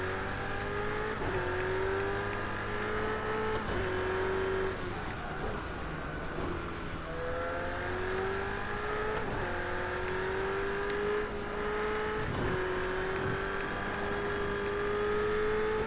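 A race car engine in a racing video game drones continuously, its pitch climbing through repeated gear changes with brief drops between shifts, loud and steady throughout.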